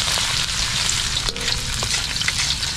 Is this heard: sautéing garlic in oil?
yes